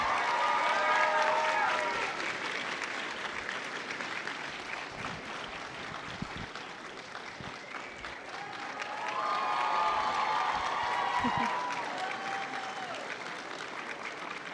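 Audience applause at a cosplay contest at the Indiana Comic Convention, a steady dense wash of clapping with cheering tones rising near the start and again midway, loud and continuous throughout.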